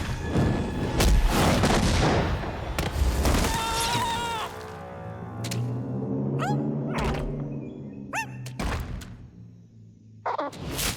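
A cartoon slug is fired from a blaster in a Slugterra episode: a burst of whooshing launch noise and booms, then several sharp zipping impacts and chirps scattered across the scene, with no talking.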